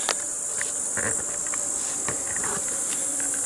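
A summer forest alive with insects, horseflies and flies buzzing in a continuous high drone, with brief closer buzzes passing by.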